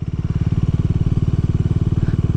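A 400cc sports tourer motorcycle pulls away at low revs, its engine pulsing in a steady, even throb up close, with no other sounds over it.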